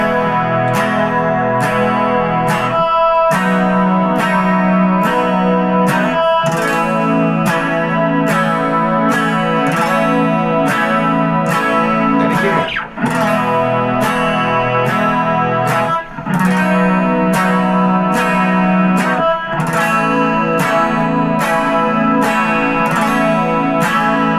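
Loud electric guitar E-shape barre chords strummed in a steady, even rhythm, with an effects-laden, slightly distorted tone and brief pauses between chord changes.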